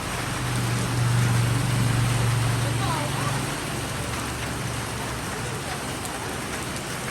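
Steady rain pours down in a dense, even hiss, with a low droning hum in the first few seconds.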